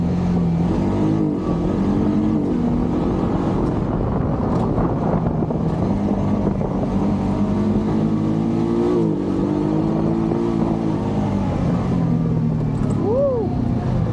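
A Honda Pioneer 500 side-by-side driven off-road, its engine droning continuously and rising and falling in pitch as revs change, close and loud with wind buffeting the microphone.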